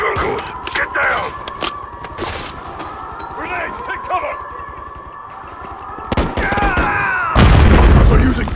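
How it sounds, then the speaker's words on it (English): Loud grenade explosions and bursts of automatic gunfire in the shooter game Call of Duty: Modern Warfare III (2023), a chaotic close-range firefight with shouted voices over the battle and a heavy blast at the end. "Grenades, take cover!"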